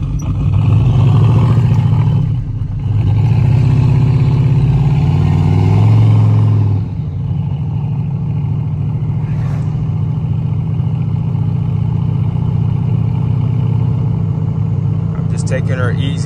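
A turbocharged Chevrolet Tahoe drives on the street, its engine humming in a low steady drone that swells under acceleration early on, then settles to a quieter cruise, heard from inside the cab while someone talks.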